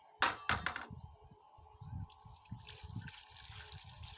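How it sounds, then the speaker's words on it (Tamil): Water poured onto potted plants, starting with a few sharp splashes and then a brief pouring trickle with irregular low gurgles, close by and with no talk. "அந்த செடிக்கு ஊற்று."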